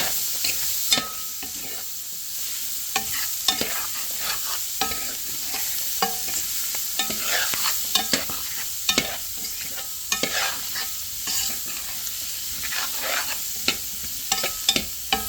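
Chopped vegetables hiss and sizzle in a very hot homemade roux for a chicken, sausage and Gulf shrimp gumbo, with a spoon scraping and clacking steadily against the pot throughout, close and busy, with no talking.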